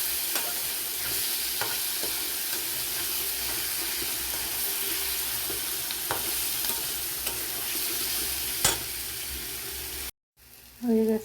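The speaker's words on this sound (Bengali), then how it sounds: "লোটে মাছ ভাজা হয়ে গেছে চিংড়ি মাছ দিয়ে" Bombay duck fish and prawns fry and get stirred in a pan, a continuous loud sizzle broken by sharp scrapes of the spatula, before a brief drop-out near the end.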